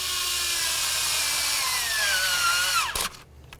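A power ratchet or drill drives a 10mm socket to tighten a bolt on the engine of a 2009-2020 Dodge Journey 3.5L, whirring steadily at close range with a falling pitch before stopping abruptly near the end.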